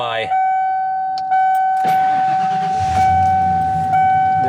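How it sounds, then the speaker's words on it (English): A low-mileage 1996 Ford F250 XLT pickup cranks and fires up, then settles into a low, steady idle, while a constant dashboard warning chime rings throughout. "I'll turn it on for you guys. It starts up like it's a brand new truck"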